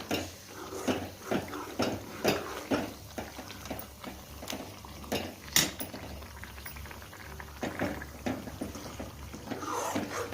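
A spoon stirs potato and aubergine bhaji in a pot, making irregular scraping and clinking strokes with soft bubbling sizzle underneath. The sound is fairly quiet and close.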